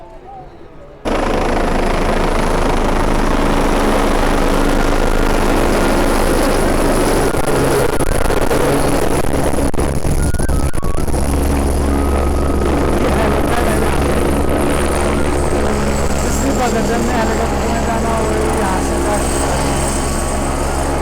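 Helicopter flying near Kedarnath in the Himalayas, a loud, steady engine and rotor roar that starts abruptly and holds for the whole stretch.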